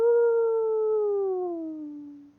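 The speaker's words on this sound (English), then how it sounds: "The boss howled." A wolf howl sound effect for an audiobook fantasy battle scene, a single long, loud, sustained howl that holds steady and then slowly falls in pitch as it fades, heard alone with no talk.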